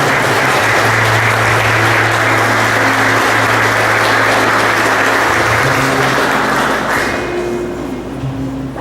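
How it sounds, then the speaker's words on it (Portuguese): Loud, sustained applause from a church congregation for children just baptized during Mass, a thick continuous roar of clapping that holds for several seconds before easing off near the end. "A gente dá uma salva de palmas por essas crianças."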